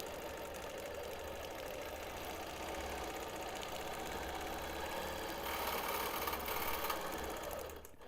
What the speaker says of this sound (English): then on I go into the quilting again